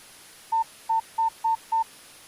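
A telephone keypad sounds five short, evenly paced DTMF beeps as a number is entered, clean and alone over a quiet line.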